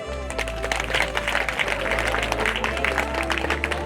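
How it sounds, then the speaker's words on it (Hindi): A Sunday church congregation clapping loudly together, a rapid, dense patter of many hands that runs steadily throughout over a heavy, sustained low bass tone. "जो सो रहे हो तालियां बजाएंगे जोर से"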